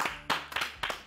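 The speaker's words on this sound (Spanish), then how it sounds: "le recibimos con un aplauso a Carlitos" A few scattered hand claps welcoming a guest at a book presentation, loud and close, three or four distinct bursts in about a second rather than sustained applause.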